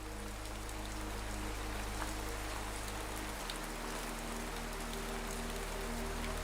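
Steady rain falls as a dense, even hiss of drops with no pauses, layered over a low, constant hum.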